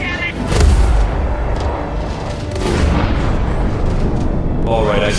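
Booming gunfire in a video game under continuous loud game noise, with a heavy blast near the start and sustained rumbling action throughout.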